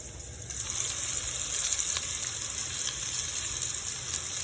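Meat sears in a hot pan for chile verde, a steady loud sizzle that swells after the first half second and keeps crackling evenly, close and alone without talk.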